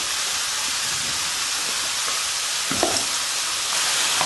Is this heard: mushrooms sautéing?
yes